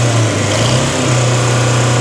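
A misfiring, low-compression small engine with a dead cylinder runs steadily with a constant hum and uneven pulsing, close and fairly loud, with no voices.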